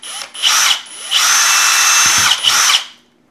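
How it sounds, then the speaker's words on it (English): A power drill punches a hole through the plastic shell of a Spirit Halloween Ghostbusters proton pack, running in a brief burst, then a longer steady whir, then a final short burst before stopping. "Before we drill our second hole,"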